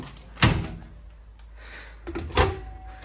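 A storage drawer in a 2024 Jayco Eagle 294 RV slides and knocks shut twice, a sharp thud early and another about two seconds later, with faint room noise between.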